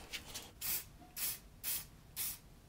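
Chain wax sprayed onto the teeth of a Craftsman ratchet during repair: four short aerosol hiss bursts with brief pauses between, close but fairly quiet, with no talking.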